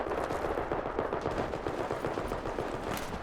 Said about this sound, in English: Who is shooting who where?